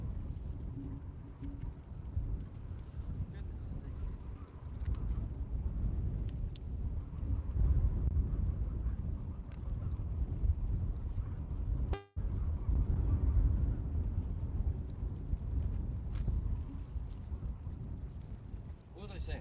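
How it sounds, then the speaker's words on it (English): Wind buffeting a fishing boat out on the water, a loud, low, rumbling roar against the microphone that swells and eases throughout, with someone talking over it now and then. "it feels windy on the face, but the waves aren't too big on the water"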